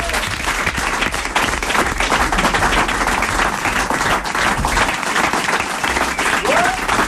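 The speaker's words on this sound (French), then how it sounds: "Et on t'applaudit encore" A studio audience at a French TV comedy game show gives dense, continuous applause throughout, loud and steady, with a host's voice talking over it.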